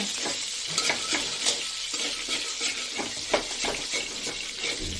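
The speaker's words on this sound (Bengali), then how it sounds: "জিরা তেজপাতা ফোড়ন দেবো, শুকনো লঙ্কা, এই যে এটা ফোড়ন দিয়ে দিলাম, শুকনো লঙ্কা আর হলো জিরে" Cumin, bay leaf and dried red chilli hit hot oil as a tempering for a bean-and-fish-head dal, making a loud, steady hiss with repeated spatula scrapes and pops throughout, no voices.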